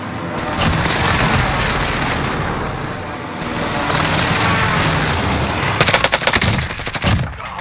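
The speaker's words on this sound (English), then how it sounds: "Enemy precision airstrikes." Precision airstrike explosions in Call of Duty Warzone on Rebirth Island, a loud, sustained barrage of booming blasts and rapid crackling detonations that roll on for several seconds, swelling again midway and ending in a burst of sharp, closely spaced impacts.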